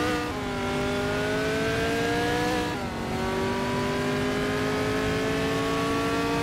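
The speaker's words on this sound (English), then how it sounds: "Naibe is driving a Crossel 15F, which is known for its balanced handling and reliability" Race car engines in a racing video game, including a Crossel 15F, hold a steady, loud high-pitched drone with several whining tones that rise gradually, dip briefly at a gear change, then climb again, with no talking.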